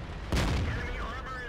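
A single tank cannon shot in World of Tanks rings out, a loud, close boom followed by a short decaying rumble and faint game sounds.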